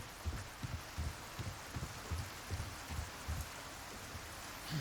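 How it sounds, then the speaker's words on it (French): Rain falling in Resident Evil 4 Remake, a steady soft wash with low rhythmic thuds pulsing underneath throughout. "Alors on va arriver à un moment où là vous voyez il pleut."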